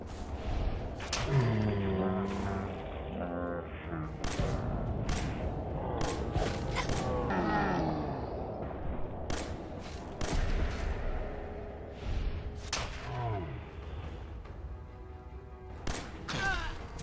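Gunfire in Fallout 4 rings out as a series of sharp, irregular shots with metallic reload clanks between them, spread across a busy fight with a voice talking under the action.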